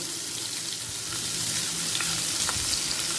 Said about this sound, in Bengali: এই সময় দিয়ে দিলাম পেঁয়াজ কুচি পেঁয়াজ কুচিটা হালকা লাল হওয়া পর্যন্ত অপেক্ষা করব